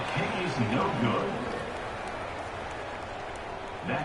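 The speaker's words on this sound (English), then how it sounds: "this crowd is buzzing after that last score" A football stadium crowd at a Memphis vs Rice game buzzes after a score, a broad wash of distant murmur and scattered cheering that swells briefly near the start and again at the end, heard alone.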